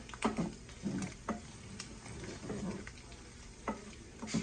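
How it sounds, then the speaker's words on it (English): A butter and flour roux is stirred in a pan, with soft scraping strokes in an uneven rhythm over a faint sizzle, close by and with no talk. "making what's called a roux, where you mix pretty much the same amount of butter and the same amount of flour"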